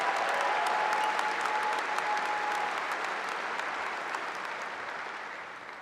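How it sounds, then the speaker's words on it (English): A large audience applauds at a high school graduation ceremony, a loud, dense round of clapping that holds steady and then gradually fades. "Please give them another round of applause and thank you for your future service."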